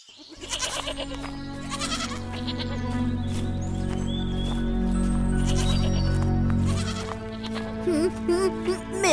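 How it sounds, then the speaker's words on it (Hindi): Cartoon goats bleat repeatedly over a dense, loud musical score, the calls sounding through the layered music for most of the clip with no talk. "शाम को बकरियों को लाकर गौशाला में बांध देना।"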